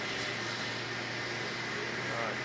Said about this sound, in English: Alright, Jetstar 267 off to Wellington.